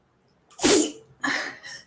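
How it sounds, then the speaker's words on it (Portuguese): A person sneezes: one sharp, loud burst, then a second, softer sneeze-like sound a moment later, with quiet before and between. "o espirro do dia"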